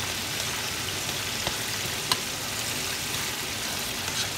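Chicken and shrimp fried rice sizzles and crackles steadily in a hot pan, a continuous close frying hiss with a few small pops and no talking.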